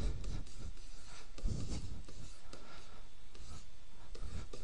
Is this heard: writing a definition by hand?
yes